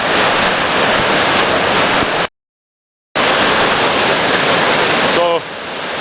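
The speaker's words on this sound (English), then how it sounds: "There's your rapids. Very unpredictable. The water just keeps sweeping upwards" River rapids in the Niagara Gorge roar as a loud, dense, continuous rush of churning water, interrupted by a brief gap and softening slightly at the end.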